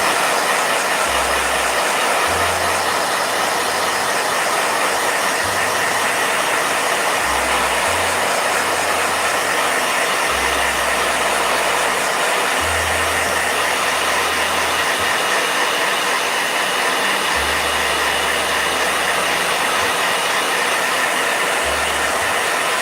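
A blow dryer running loud and close in a painting session, a constant roaring whoosh for over twenty seconds with a low hum that cuts in and out beneath it.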